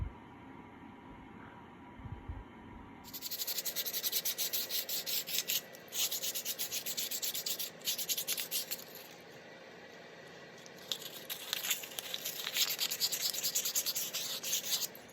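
Sandpaper rubs by hand over a galled Cummins trunnion part in a quiet shop: a faint hum first, then close, steady back-and-forth scratchy strokes in irregular bursts, with no voices.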